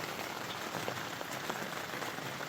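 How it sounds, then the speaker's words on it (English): Steady rain patters on an old tent fly strapped to a bimini on a jet boat in Alberta, a dense, even hiss of drops with faint splashes, continuous and fairly close, with no speech. "the rain's coming in at a slight angle, and so with the distance between the bimini and the edge, it's sort of hitting this and splashing in"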